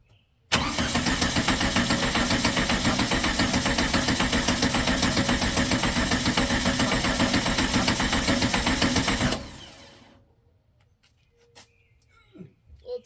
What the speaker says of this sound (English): Yeah, it turns over really nice.